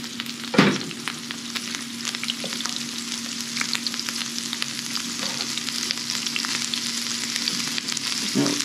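Mushrooms sizzle loudly in a hot pan alongside meat for a Philly cheesesteak, a steady close-up frying hiss with one sharp clatter near the start and light stirring scrapes throughout.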